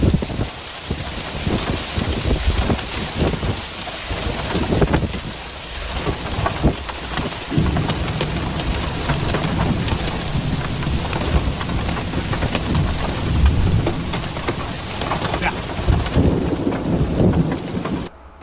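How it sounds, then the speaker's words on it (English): Heavy rain drums steadily on surfaces during a storm, with low rumbles of thunder and a rough, dense clatter that may be hail mixed in, loud and continuous throughout. "Sound like hail coming down too."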